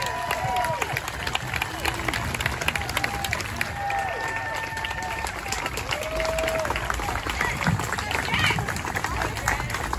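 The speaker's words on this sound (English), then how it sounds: "We should all give our law enforcement officers a great round of applause." A rally crowd honouring law enforcement officers breaks into applause and cheering, dense clapping with shouts and chatter mixed in, fairly distant and steady over ten seconds, with whistles and voices rising now and then.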